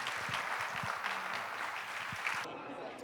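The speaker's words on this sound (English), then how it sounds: "Let's send them off with a big roaring round of applause." At an awards luncheon, a crowd applauds in a moderate wash of clapping mixed with voices talking over it. The sound cuts off abruptly partway through.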